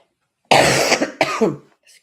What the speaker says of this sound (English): Excuse me, I've had a lovely cough.